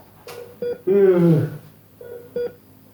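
Telephone keypad dialing in a Sundanese short film: a handful of separate DTMF beeps spaced irregularly across a few seconds, fairly loud and close, with a brief voice-like sound in the middle.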